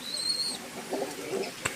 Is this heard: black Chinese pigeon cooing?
yes